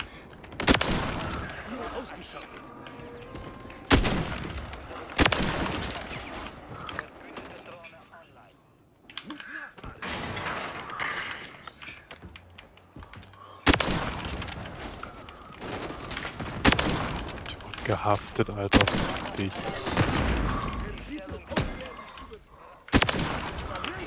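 Call of Duty MW3 multiplayer gunfire cracks out in sharp, loud bursts separated by short lulls, each volley dense and close, while German-speaking players shout and talk between and over the shots.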